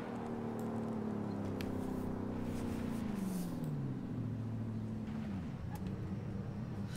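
A Lamborghini Urus engine in Forza Horizon 5 drones steadily, its pitch rising then dropping as it shifts gears, with a continuous low rumble throughout.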